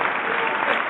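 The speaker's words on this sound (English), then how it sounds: "Can we get applause?" An audience claps in a studio setting, a steady dense patter of applause from a crowd heard up close for a moment.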